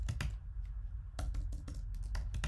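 Keys tap in quick bursts on a computer keyboard while typing into a web hosting control panel, close and crisp, with short pauses between clusters of strokes.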